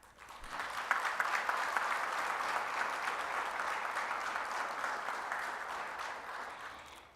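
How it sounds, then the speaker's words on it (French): Sustained audience applause at a conference introduction, a dense steady clapping of a sizeable crowd lasting several seconds, fairly loud and fading slightly at the end, with no talk over it. "Qu'ils en soient remerciés par vos applaudissements nourris."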